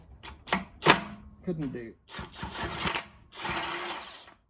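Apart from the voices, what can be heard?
DeWalt impact wrench loosening a Mercedes 107 SL rear hub nut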